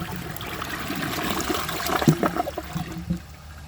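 A 2009 American Standard Cadet 3 toilet with a 10-inch rough-in flushing while the handle is held down, giving a steady close rush of water with gurgling bursts and splashes midway, then settling toward a trickle.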